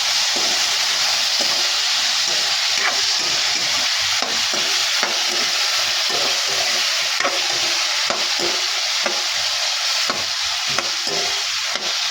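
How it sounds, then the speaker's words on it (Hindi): Potatoes frying in a hot pan and being stirred, a steady sizzling hiss with repeated scraping stirs of the spoon throughout, close and fairly loud, with no talking. "तब तक मैं आलू फ्राई कर लेती हूँ।"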